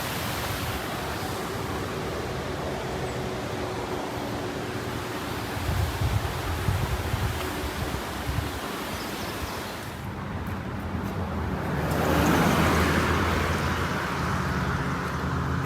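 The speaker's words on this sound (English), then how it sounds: "This, ladies and gentlemen, is the Pigeon River." The Pigeon River in the Smokies rushes steadily as broad, continuous water noise, with a gusty swell near the end and no talking.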